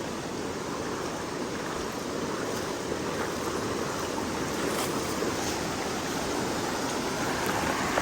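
River water rushes and flows steadily nearby, a constant broad roar like a fast stream, with no talking.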